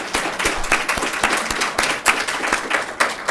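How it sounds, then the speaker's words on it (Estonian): Dense, sustained applause from a seated audience at an education seminar fills the room with continuous clapping for the event organiser. "üks väga põhjalik aplaus Pillele, kes seisab seal taga"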